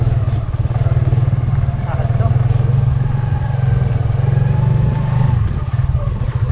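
A motorcycle engine drones close and loud at a steady low pitch while the rider travels along a road, with slight shifts in revs and occasional voices over it.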